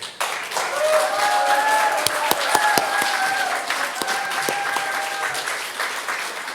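A festival crowd at Frome Festival claps loudly and steadily, a full wash of applause that swells early and holds, with a few sharp individual claps and voices calling out over it.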